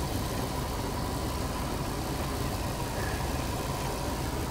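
A car engine idles steadily at close range, a constant broadband rumble with a low throb that holds evenly throughout with no speech.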